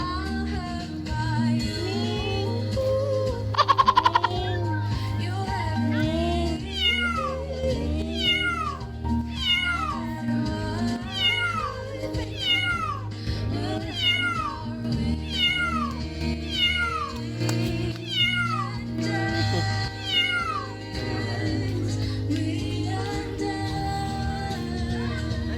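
Cat meowing repeatedly at a wedding venue, a long series of distinct close meows rising and falling, heard over a steady background of music and ambient noise, with no talking.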